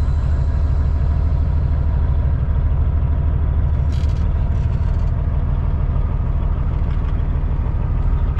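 A Peterbilt truck hauling a van trailer idles with a steady, loud, low diesel rumble that holds even throughout, with a few faint clicks and rattles on top and no talking.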